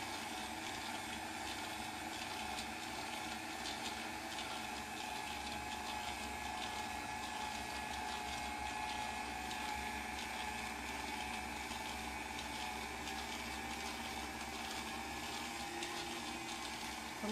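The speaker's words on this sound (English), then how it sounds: "I'm going to turn the stand mixer on speed 3 or 4. I think I'm going to put it on 4 today." Stand mixer running at speed 4 with a pasta roller attachment, a faint, steady motor hum with a soft mechanical whir, unchanging throughout.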